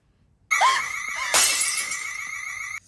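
Glass cups shattering in the horror film Smile: two sharp breaking crashes, the second louder at about 1.3 seconds. Each crash is followed by a bright ringing of scattered shards, loud and close, with no talk over it.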